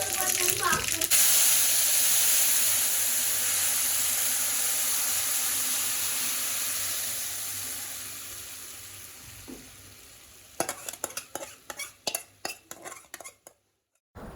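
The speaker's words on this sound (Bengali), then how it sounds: "এর জন্য একটু সরিষা ফোড়ন তো দিতেই হবে" Mustard seeds crackle and sizzle in hot oil for tempering, a steady loud hiss that gradually fades before sharp popping bursts near the end, with utensil clatter and voices talking.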